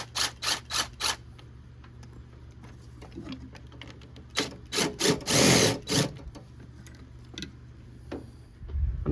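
Bolts coming off the valve cover of a Toyota 3.4L 5VZ-FE V6, a fast series of sharp ratcheting bursts in two clusters, close and fairly loud, with quiet gaps between.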